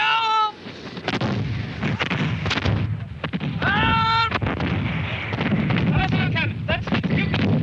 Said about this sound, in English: Cannonades all around me.